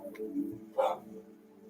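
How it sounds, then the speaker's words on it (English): A dog barks indoors, a couple of short barks with a louder yelp near the end, fairly close and brief, with no speech over it. "My dog is barking all. Can you hear her?"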